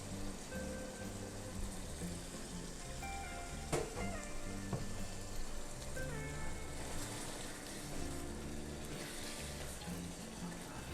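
Chopped green chillies go into a dhaba-style chicken karahi with fresh ginger, and the pan keeps up a steady, moderate sizzle and spatter with a few brief clinks.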